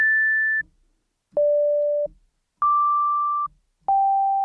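Four clean, pure sine tones like a hearing test, each held for about a second at a different steady pitch and separated by short silences, loud and without any overtones.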